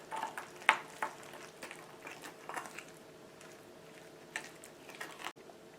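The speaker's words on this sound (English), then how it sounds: "And then finish it off with the flour. Now we're going to mix it all together." Quiet scraping and soft crumbly stirring as coffee cake streusel topping ingredients are mixed together with flour, with irregular light clinks and taps, close and alone with no talk.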